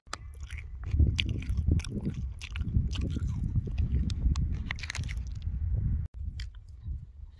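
Crisps being eaten outdoors during a cycle trip in Glen Clova, Scotland: close, continuous crunching and chewing with soft mouth noises, fairly quiet, no talking.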